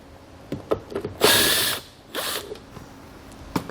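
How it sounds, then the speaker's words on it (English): Two 8mm bolts on a tail light are run out with a power drill, giving two short bursts of whirring and a few clicks up close, with no talking. "That's going to expose two 8mm bolts. We'll run those out."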